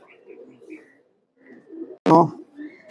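Tournament-flown pigeons coo softly in a cage, low murmuring calls rising and falling, with one sharp louder burst partway through.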